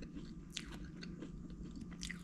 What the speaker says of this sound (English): Let's taste this cookie.